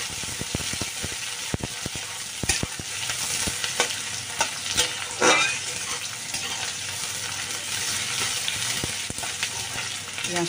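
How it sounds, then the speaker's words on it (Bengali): Chopped onion fries lightly in a pan for a chichinga and tengra fish curry, a steady hissing sizzle with occasional sharp clicks and scrapes from stirring, close and even in level, without speech. "কুচানো পেঁয়াজটা দিয়ে দিলাম। দিয়ে পেঁয়াজটা এবার কিন্তু হালকা ভেজে নেব।"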